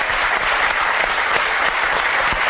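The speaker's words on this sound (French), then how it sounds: "Et je fais des applaudissements à vous" A television studio audience applauds loudly, a dense, even wash of clapping that holds steady from start to finish.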